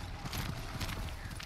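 Horse hooves in the samurai video game Ghost of Tsushima, a rapid, rhythmic clip-clop of galloping under dense, noisy game ambience, steady and fairly loud across the short stretch.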